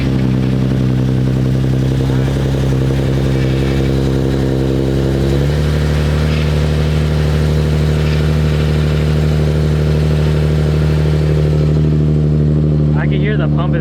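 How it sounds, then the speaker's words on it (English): Nissan 370Z running with its power steering pump working, a loud steady engine drone with a slight step change midway and constant mechanical hum, with people talking over it. "I can hear the pump is making some noise."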